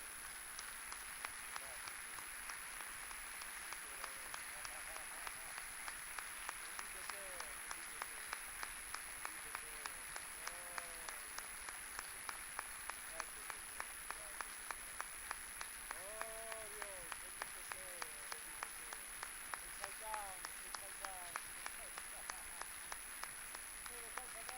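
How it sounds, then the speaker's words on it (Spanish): A church congregation applauds in praise, a steady crowd of many hands clapping throughout, with a rhythmic clap pattern emerging and voices calling out faintly underneath. "Le damos un aplauso al Señor."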